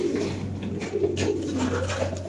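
An Iranian Sheikh Shali pigeon, black in colour, coos in low rolling murmurs at close range, a steady soft cooing over a faint constant hum.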